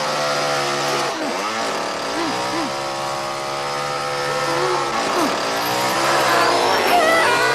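Chainsaw revving in a horror movie scene, loud and close, with rising and falling whines and a few dips, under other film sound effects.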